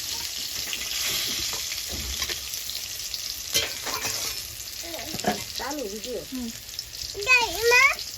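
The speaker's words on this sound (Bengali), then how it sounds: "আমার উচ্ছে দিয়েও ভাজা হয়ে গেছে লাল লাল করে" Bitter gourd fries in hot oil, keeping up a continuous sizzle with a few stirring clatters while someone speaks intermittently over the cooking.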